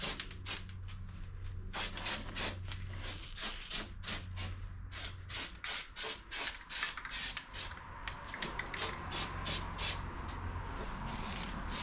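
Cold galvanizing compound sprayed from an aerosol can onto bare metal during a Jeep back half stretch install, a long run of short hissing bursts of varied length over a low background hum.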